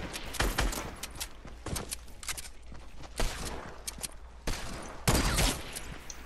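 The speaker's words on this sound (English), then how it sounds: "There's a guy with a minigun." Gunfire from a minigun in a multiplayer video game: sharp bursts of rapid shots stand out at intervals over a dense, busy background of game sounds.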